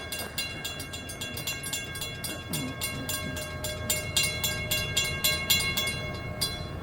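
An FEC freight train rolls through a railroad crossing at track speed, with a steady rumble of wheels and cars and a rhythmic clatter of wheels over rail joints building louder and close by.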